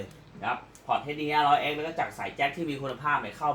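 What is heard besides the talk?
None of the usual background noises is heard.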